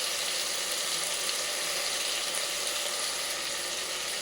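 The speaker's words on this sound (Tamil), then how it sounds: "நல்லா போட்டு தாளிச்சிடலாம். நல்லா வதங்கி வரணும்." Ingredients with a pinch of rock salt sauté in a pan for egg kulambu, an even, unbroken crackling sizzle at moderate volume, close by and free of speech.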